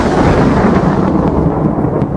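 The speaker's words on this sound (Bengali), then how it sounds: "হঠাৎ করেই বাইরে এক ঝলক বিদ্যুৎ চমকালো।" Thunder rumbles in an animated horror story, a loud, deep and sustained roll close by that fills the short moment without any voices.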